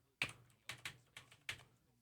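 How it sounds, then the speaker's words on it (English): A computer keyboard is typed on quietly, with about five distinct clacks in an irregular rhythm over two seconds. "I'm typing sideways."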